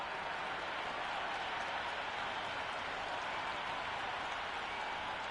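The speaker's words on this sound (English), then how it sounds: "already the crowd making a hell of a racket" Steady, dense roar of a cheering stadium crowd in the Cricket 26 video game, a continuous wash of applause-like noise at constant level with no distinct peaks.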